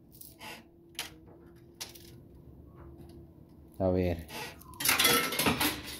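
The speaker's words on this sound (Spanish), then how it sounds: "Este puñito es lo último que me queda de mis monedas." A handful of coins clatters into a coin pusher machine in a loud metallic jingling burst after quieter clicks and machine hum, with a brief voice beforehand.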